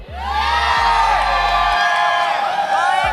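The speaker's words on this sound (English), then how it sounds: "Wanna hear some of the shout from the Filipino crowd?" Filipino crowd at an MLBB M6 World Championship knockout match roars in sustained shouting and cheering, loud and continuous with whoops rising over the din and a low rumble underneath throughout.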